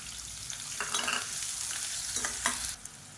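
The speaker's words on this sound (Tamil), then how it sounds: "இப்போ இதில் பொடியாக நறுக்கின வெங்காயம் சேர்த்துக்கலாம்." Chopped onions sizzle and hiss in a hot pan with mustard seeds while bitter gourd kuzhambu is cooked, with a steady close frying crackle and a few louder stirring scrapes, and no voices.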